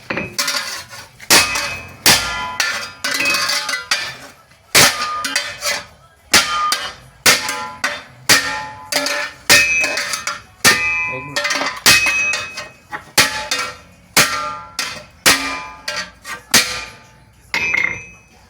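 Sledgehammer repeatedly striking a metal shovel in a durability test, a series of sharp, loud, ringing clangs in irregular bursts and pairs, with short pauses between them.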